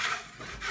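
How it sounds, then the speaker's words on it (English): A flat knife blade scraped across an old plaster wall in an 1866 farmhouse, giving one short, close, dry rasping stroke with a brief dip partway through. "I'll take my knife and just flat blade right across all of it like this"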